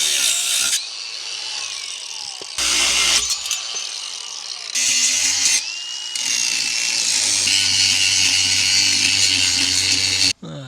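An angle grinder works on the metal frame of a boat trailer during a welding repair, loud bursts of whining grinding broken by brief pauses, then a long sustained run ending abruptly.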